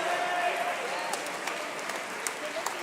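Spectators at a regional swimming championships in a leisure centre pool keep up a steady roar of cheering and applause, dense and echoing, with scattered louder claps and shouts rising out of the crowd noise.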